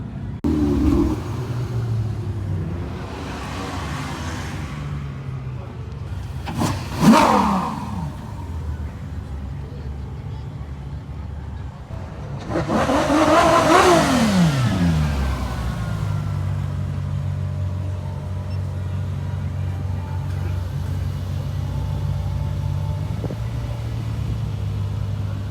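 Ferraris in a parade at Spa-Francorchamps idle and rumble close by, with a couple of sharp revs and passing engine swells rising over the steady low drone, and voices talk underneath.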